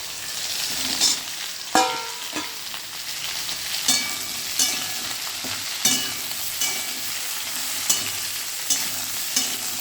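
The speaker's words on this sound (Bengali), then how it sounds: "দেখুন পটল আর আলুগুলো প্রায় ভাজা ভাজা হয়ে গেছে।" Potatoes and pointed gourd (potol) fry in oil in a pan, giving a steady sizzle with regular sharp clinks and scrapes from a spatula stirring the pieces, close and fairly loud, with no voices.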